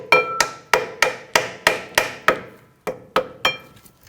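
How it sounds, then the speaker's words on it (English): Hammer tapping a rusted, stuck rear brake pad out of a caliper bracket: about ten sharp metallic strikes in an even rhythm, close and clear with no talk. "Our back pad is stuck in the caliper bracket, so you're going to have to tap that out."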